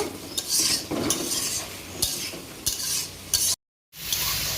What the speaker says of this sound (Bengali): এখন আমি এই বেঁচে রাখা আলু ছোলা আর কুমড়া দিয়ে দিলাম এর সঙ্গে আর একটু ভালো করে কষিয়ে নেব